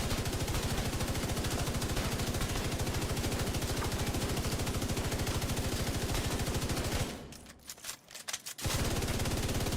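An MG5 machine gun fires in The Division 2, a fast, sustained stream of rapid shots for about seven seconds, then a short broken pause before heavy firing resumes.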